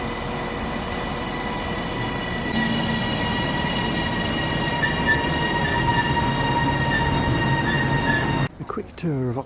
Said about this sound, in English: This train is formed of 5 coaches.